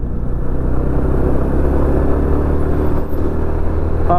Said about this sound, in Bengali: ফার্স্ট গিয়ার সেকেন্ড গিয়ারের কাজ শুরু হয়ে গেছে এখন একদম ওপরে উঠছি